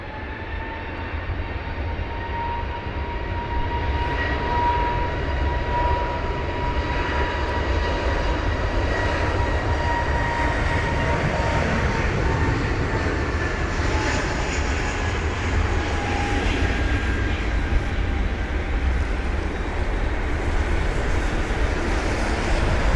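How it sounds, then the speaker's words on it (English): An Iberia Airbus A320neo takes off from runway 27R at London Heathrow in wet, spray-filled conditions. Its jet engine roar is steady and loud for the whole stretch, with a broad rumble and faint whining tones drifting slowly above it. "We've got the Iberia 320neo lining up runway 27 right, further into it."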